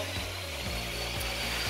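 Construction work on a theatre stage, with steady sawing or power-tool noise and rattling mechanical sounds in a large room, continuous and moderately distant.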